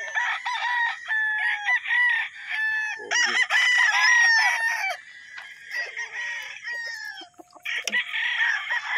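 A White Kelso gamecock rooster crows loudly and close, with long drawn-out cock-a-doodle calls and some clucking, while other birds call faintly in the background.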